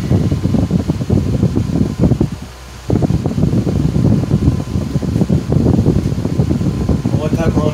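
A French fry heater blower fan runs with a steady whooshing, rumbling drone and a bit of rattling. A person speaks over it.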